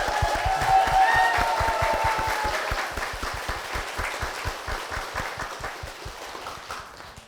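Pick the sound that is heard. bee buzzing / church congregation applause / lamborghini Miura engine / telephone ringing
church congregation applause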